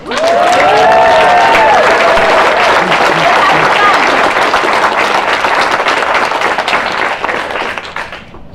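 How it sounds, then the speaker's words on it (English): A crowd gives a loud, sustained round of applause with cheering at a charity fundraising event, a voice or whistle rising briefly early on, the clapping fading slightly toward the end. "Round of applause for Dad."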